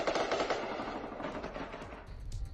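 Heavy gunfire and shelling on the Pakistan-Afghanistan border: dense, continuous rattling bursts of machine-gun fire with rumbling booms, loud and chaotic, without any voices.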